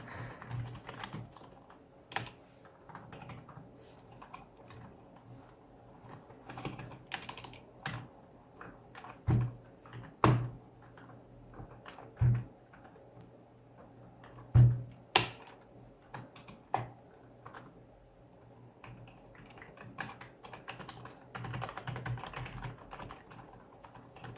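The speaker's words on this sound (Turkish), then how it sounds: "Güzel bir klavye diyebiliriz. Ufak bir şekilde bir de ses testi yapalım." Soft typing on a Rampage KB-R22 Letho membrane gaming keyboard, a quiet run of muffled key presses with a few louder clacks, close by and alone.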